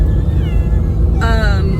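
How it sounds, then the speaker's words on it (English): An upset house cat lets out a drawn, wavering meow, then a louder, sharper one, over heavy low rumbling background noise during a move. "that's the kitty. She's very upset."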